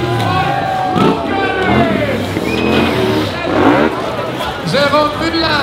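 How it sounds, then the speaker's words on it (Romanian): Enduro motorcycle engines at the Red Bull Romaniacs 2023 prologue race rev and whine up and down in pitch, loud and near, over crowd noise, with a commentator talking throughout. "își aduce Tita mai motocicleta din nou pe dreapta întâi"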